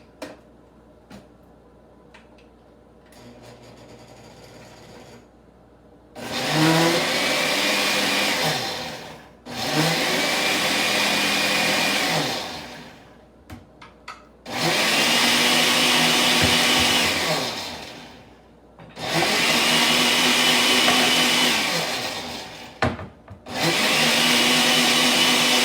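A blender roars loudly in several bursts, revving up and winding down between pulses, with quieter kitchen noise in the gaps.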